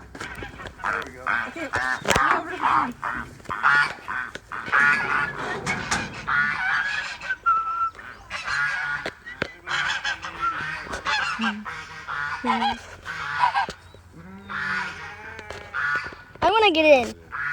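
Geese honk on a farm in short bursts scattered through the clip, heard under near, continuous talk from people working at a fence by a pond.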